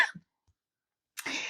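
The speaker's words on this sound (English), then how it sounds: "sorry, I still have a little bit of the cough left over." A single short human cough at the start, followed by silence and then a burst of breathy throat clearing or a second cough, close and clear with no talk.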